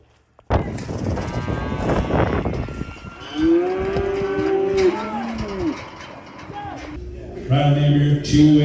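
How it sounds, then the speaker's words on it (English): Cattle moo repeatedly at a livestock sale where cows are being sold, with several loud, drawn-out calls close by amid general crowd noise and voices, ending in a busier stretch of mixed sounds. "help my parents sell some cows"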